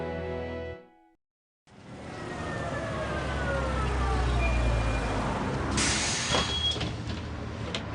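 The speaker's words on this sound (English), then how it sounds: "Here she is, catching the bus." A city bus pulls up at a stop, its engine rumbling with a drawn-out hiss of air brakes near the end, after a brief silence; a whining tone glides through the sound.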